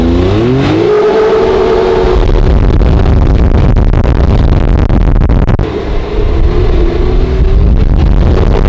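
A 2022 Can-Am X3 side-by-side launches hard, its engine revving up through rising pitches and then roaring at full throttle, loud and close, with a brief dip before the roar builds again.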